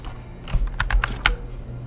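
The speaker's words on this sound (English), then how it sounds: "my keyboard's near my microphone" A computer keyboard close to the microphone gives a burst of sharp, uneven keystrokes, several clicks in quick succession, loud and alone.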